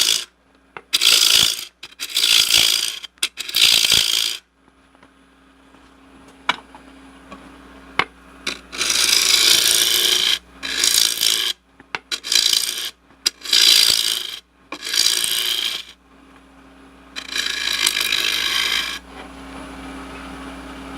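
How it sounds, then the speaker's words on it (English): A gouge cuts into wood spinning on a lathe in repeated scraping bursts of a few seconds each, loud and close, separated by brief quiet gaps. "You can actually use your gouge to make a straight cut in there."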